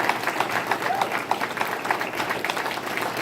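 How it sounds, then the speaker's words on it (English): Audience applause fills a hall of fame ceremony honouring a wrestler, with steady, dense clapping at moderate distance and a faint murmur of voices underneath. "So let's give him one more round of applause."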